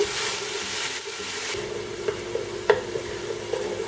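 Ground onion with ginger-garlic paste frying in a pan, a soft steady sizzle with a few light stirring scrapes and clicks near the close.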